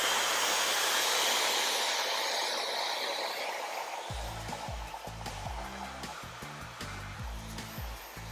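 A hair dryer fitted with a diffuser roars in a steady, loud whoosh while hair is lifted for volume, with low rhythmic thumps joining partway through.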